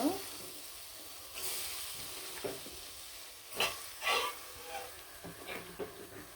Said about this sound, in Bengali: মেখে জেখে রাখা মাংসগুলো দিয়ে দিব এখন মেখে জেখে রাখা মাংসগুলো কিন্তু দিয়ে দিব